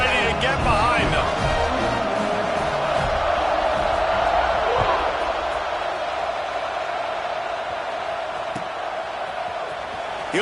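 A stadium crowd in a college football video game, Ohio State versus USC, roars and cheers in a broad sustained wash after a touchdown, gradually fading, with no talk over it.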